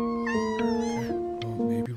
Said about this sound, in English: But I really can't have five cats around the house.